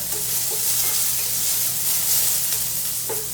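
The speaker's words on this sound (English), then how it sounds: "I'm just browning this now." Vegetables brown in a frying pan for a tofu scramble over medium-low heat, giving a steady, close hiss of sizzling with faint scrapes of stirring and no talk.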